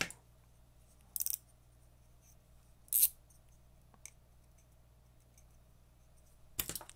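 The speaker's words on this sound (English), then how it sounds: "And how does it cut braid?" Carbon fiber pliers cutting fishing braid, a few isolated sharp snips spaced seconds apart in a quiet room, close and fairly loud against near silence.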